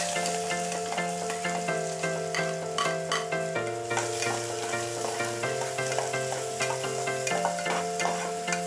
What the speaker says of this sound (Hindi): ऑयल एकदम अच्छे से हीट हो गया। अब इसमें ये प्याज ऐड कर दूंगी मैं।